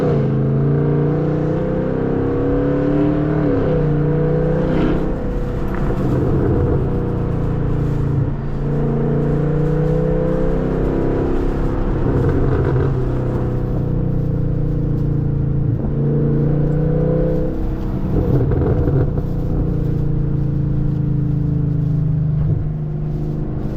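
A 2023 Chevrolet Camaro SS V8 with muffler and secondary catalytic converter deleted revs repeatedly up close, loud throaty bursts rising and falling over a steady rumbling idle, with no talk.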